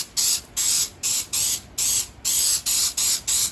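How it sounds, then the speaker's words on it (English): Cooking spray from an aerosol can coats a baking pan in eight short, loud hissing bursts at a steady rhythm, close up with brief pauses between each spray. "we're gonna spray our baking pan with our cooking spray."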